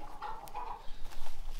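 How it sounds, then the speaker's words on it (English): Chickens on a homestead clucking in a loose flock, short overlapping calls at moderate distance with some shuffling and outdoor noise, no voices. "Look at all those chickens."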